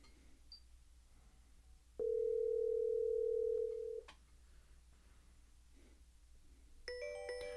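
A Pioneer AVH-210EX car stereo placing a hands-free Bluetooth phone call: a loud, steady dial tone holds for about two seconds, then stops, and a quieter cluster of electronic beeps follows near the end.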